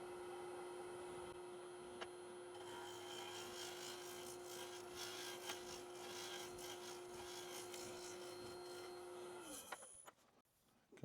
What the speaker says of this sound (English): I'm going to use the right hand side beveled scraper to make the final cuts on these outsides